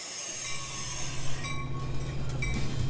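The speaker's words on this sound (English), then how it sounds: "you can take the historic Rock Island Railroad to 91st Street" A historic Rock Island Railroad commuter train runs on Chicago's South Side, giving a steady low rumble of wheels on track with faint squealing and clicks as it passes.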